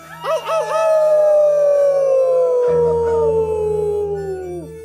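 At an open mic poetry event, a single long, loud howl, clearly a human voice imitating a wolf, rising then slowly sliding down over several seconds with other audience voices joining.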